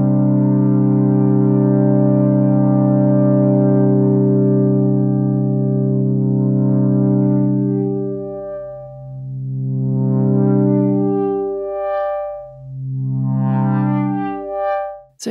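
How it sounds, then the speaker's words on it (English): UDO Super 6 synthesizer with reset mode on, a held buzzy chord whose filter LFO sweeps restart with each note, giving a slow fade followed by retriggered, arpeggio-like pulses of brightness. "If I were to switch on reset mode, it would sound like this."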